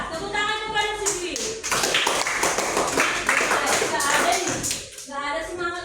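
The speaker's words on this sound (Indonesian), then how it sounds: "Tepuk tangan kepada Siswi." Classroom applause for a student during a lesson on Batak Toba local culture and tor-tor dance: a burst of clapping and tapping from pupils that runs for several seconds, mixed with chatter and voices at the start and end.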